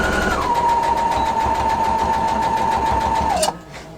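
A sewing machine stitches rows of a strip rag quilt in a fast, steady whirring run with rapid needle ticks, close and loud, then stops abruptly near the end.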